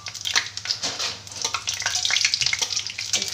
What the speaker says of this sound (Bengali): কড়াইতে সর্ষের তেল দিয়ে দিয়েছি, দুটো শুকনো লঙ্কা আর 5 ফোড়ন দিয়ে দিলাম।